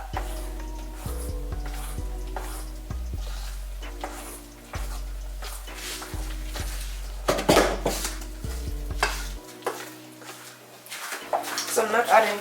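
Banana fritter batter being mixed in a bowl, with repeated clinks and scrapes of a utensil against the dish, close, over background music, with a voice briefly speaking.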